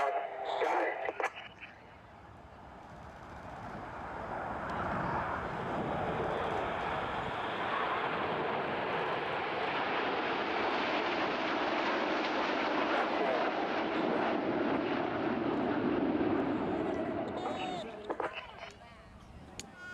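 Jet engines of the RAF Red Arrows aerobatic formation roar in at an air festival, swelling to a long, loud sustained rumble before tapering off, with a faint voice underneath.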